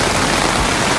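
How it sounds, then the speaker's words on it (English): Torrential rain pours down on a campsite beside a rapidly filling creek, a steady dense hiss of water on the ground that stays loud and unbroken throughout with no talk. "Now it is just torrential"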